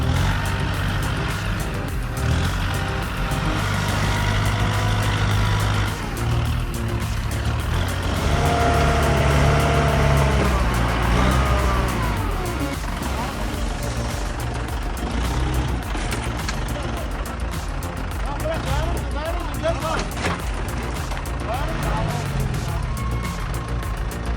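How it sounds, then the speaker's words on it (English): A log loader strains while moving a huge timber: a loud, continuous heavy diesel engine drone with shifting mechanical groans and grinding throughout. "The loader is groaning under the strain."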